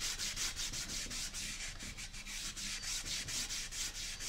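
A cloth rubs wax onto a small wooden key holder in steady, close back-and-forth strokes, a soft rhythmic scrubbing heard alone.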